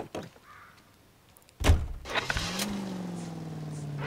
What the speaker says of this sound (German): Und wir fahren Brumm Brumm Auto.